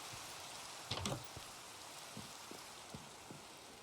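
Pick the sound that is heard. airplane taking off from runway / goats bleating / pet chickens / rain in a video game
rain in a video game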